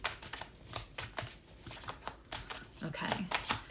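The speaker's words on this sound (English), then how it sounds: "I have like a little regular size deck, and I'm still doing the side shuffle." A regular-size tarot card deck is side-shuffled in quick repeated bursts of papery flicking and slapping, close and moderately loud, with a voice talking underneath.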